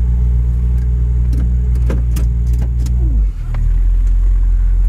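A 1963 Chevy Nova convertible's engine idling smoothly nearby, a loud, even low drone with a few scattered clicks and light knocks on top and a brief dip partway through.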